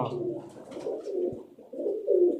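A pigeon coos close by in soft, throaty, rolling phrases with brief pauses between them.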